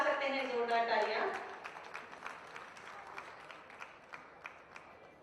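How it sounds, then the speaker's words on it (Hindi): Audience applause at a political rally in Jhansi, loud at first and then thinning to scattered claps under a continuing voice over the crowd. "आप सभी अपनी तालियों के प्रणाम मंच तक पहुंचा सकते हैं, जोरदार तालियां।"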